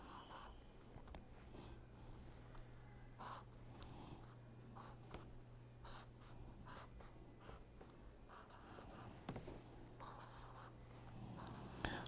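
Pen writing on paper while sketching a pi 3 orbital diagram in a chemistry lesson, with quiet intermittent scratchy strokes over a steady low hum, close and faint.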